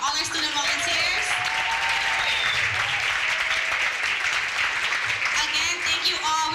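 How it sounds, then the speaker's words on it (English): Sustained applause from a crowd at a commemoration event honoring student volunteers, the clapping steady and full throughout with some voices and cheers mixed in. "if everybody could just give a round of applause for all our student volunteers"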